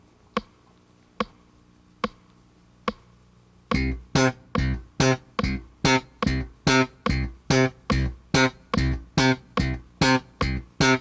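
A metronome ticks four times alone, then a bass guitar joins with a steady run of short staccato notes, each clipped off quickly in time with the clicks, close and clear.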